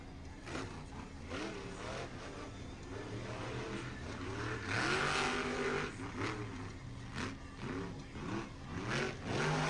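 A monster truck engine at the O'Reilly Outlaw Nationals in Miami, Oklahoma roars and revs repeatedly, pitch sweeping up and down in surges, loud but somewhat distant over crowd and arena noise.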